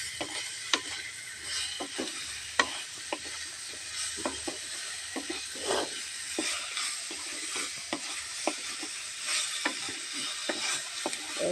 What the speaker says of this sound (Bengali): এই ঝিঙেগুলো সব ভালো করে ভেজে নিলাম।